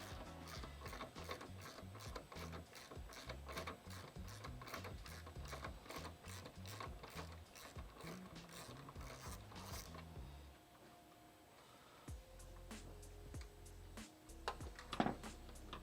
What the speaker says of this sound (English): You can go ahead and take this nut off of the strut tower.